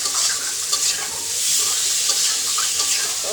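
Potatoes fry in a pan with a soft, steady sizzle, close by, broken by a few light clinks and stirring noises. Some watery hiss blends in, as if liquid is being added or is cooking down.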